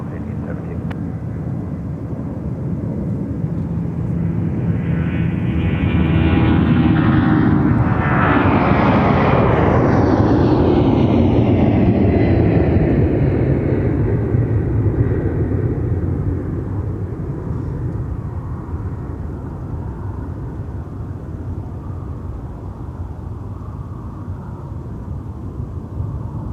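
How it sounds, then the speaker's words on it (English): A Boeing 757-300 jet departs the airport, its engine roar swelling from a distant rumble to a loud, sweeping peak and then slowly fading as it climbs away. "Here's our 757-300 off to Phoenix Sky Harbor."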